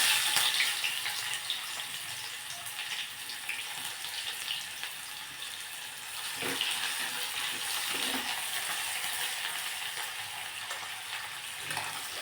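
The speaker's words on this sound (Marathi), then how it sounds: "यामध्येच बारीक चिरलेला कांदा टाकायचा" Finely chopped onion dropped into hot oil with half a spoon of cumin for masale bhat, a soft steady sizzle with a few dull stirring knocks, fairly faint and without talk.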